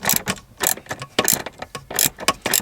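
A hand ratchet loosens the bolts on a Renault Megane gear shifter, a close series of quick clicking bursts in an uneven rhythm, with no talking.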